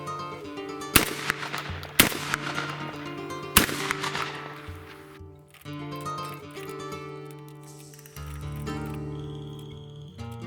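A shotgun fires a reloaded shotshell loaded with test powders, giving a few sharp, loud reports spaced apart with a tonal background in between.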